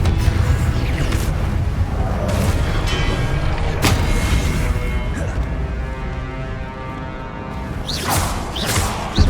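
Expelliarmus and other spells cast in Hogwarts Legacy burst out as repeated whooshing, booming impacts at irregular intervals, with magical shimmer and combat noise between the hits.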